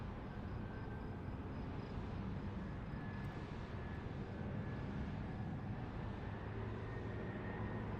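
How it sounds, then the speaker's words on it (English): Steady broadband rumble of airplanes flying overhead, a continuous distant drone with no break and no talking. "I hear planes right now over this area here."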